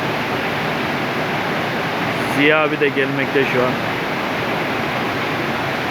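The waterfall at Gül Pınar in Darende, Turkey, beside a cold stream, pours out a steady broadband rush, with someone briefly speaking over it midway.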